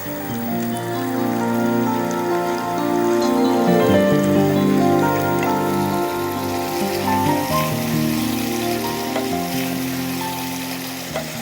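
Masala for haleem sizzles and fries steadily in a pot, a continuous crackling hiss under background music.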